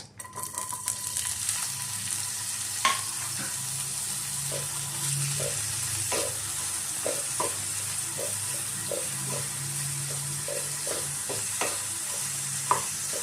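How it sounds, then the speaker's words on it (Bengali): Chopped onions frying in hot oil and being stirred for a chicken roll, a steady close sizzle with a run of regular scraping stirs and a couple of sharper knocks against the pan. "তেল ভালো করে গরম হয়ে এলে আমি এর মধ্যে দিয়ে দিচ্ছি কেটে রাখা পেঁয়াজ।"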